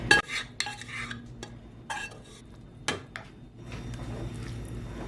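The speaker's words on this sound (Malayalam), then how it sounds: "നന്നായിട്ടൊന്ന് മിക്സ് ചെയ്തെടുക്കാം." Spoon scraping and clanking against a pan while kootu curry is mixed, a few sharp knocks and scrapes over a low, soft background hiss.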